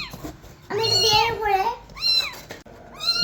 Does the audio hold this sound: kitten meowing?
yes